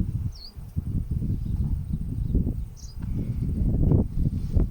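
Honey bees buzzing around opened hives at an apiary in Kaihere, New Zealand, a dense low droning hum that swells and fades steadily, with a few faint bird chirps above.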